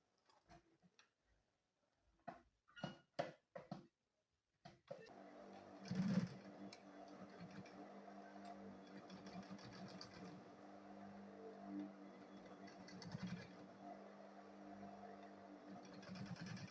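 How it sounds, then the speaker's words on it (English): A sewing machine stitches the front side of a school bag, starting after a few scattered clicks and handling sounds, then running in a steady close mechanical whir for about ten seconds. "Then I will sew it straight."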